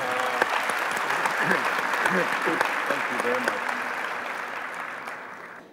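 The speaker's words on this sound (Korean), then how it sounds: "다시 한번 우리 경례의 박수를 한번" An audience applauding a speaker at an event on climate change, sustained clapping from a large crowd that tapers off near the end, with someone speaking briefly over it.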